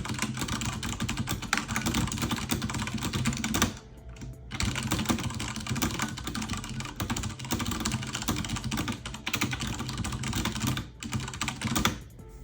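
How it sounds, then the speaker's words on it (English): Rapid continuous typing on a Logitech G710 Plus mechanical keyboard with Cherry MX Brown switches, dense close clicking that pauses briefly twice and then resumes. "This is the Logitech G710 Plus with Cherry MX brown switches."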